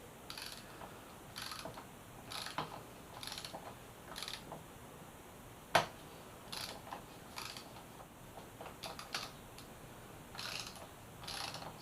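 Socket wrench loosening a front fork bolt on a Yamaha FZ6R motorcycle, heard as short bursts of quiet ratcheting clicks repeated in a steady rhythm with brief pauses and one sharp click, close up in a quiet shop.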